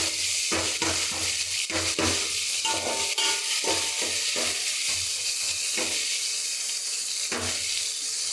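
Tomatoes sizzle and fry in a hot pan for a sardine fish curry, a steady close crackle broken by repeated scraping stirs and a few soft splashes, with no talking.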